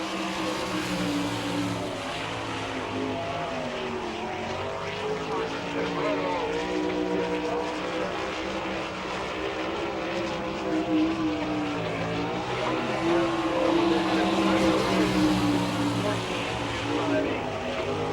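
Greg Wilson's 63W race car laps a Wichita, Kansas speedway during NCRA All Stars qualifying, its engine a loud sustained roar that swells and fades across the track, with an announcer talking over it.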